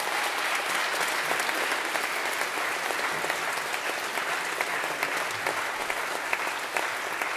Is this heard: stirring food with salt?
no